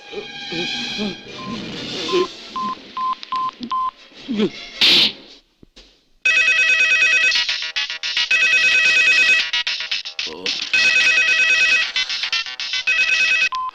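A phone rings in a tense film scene: a short burst of dialing tones and voices, a brief pause, then a loud, insistent electronic ringtone repeating in regular bursts for several seconds.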